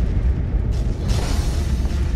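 Explosion at the rudder of a Russian warship during an Ottoman-Russian naval battle, a loud deep boom and rumbling blast with a brighter burst swelling midway, heavy low roar throughout.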